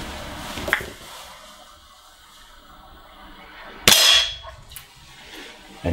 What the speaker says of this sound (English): now it's ready to shoot